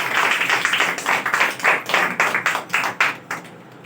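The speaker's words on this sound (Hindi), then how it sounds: "आइए हम लोग ताली मारेंगे यीशु के जोर से" A church congregation claps loudly and steadily together, a dense run of sharp hand claps with a brief uneven patch near the end and no voices over it.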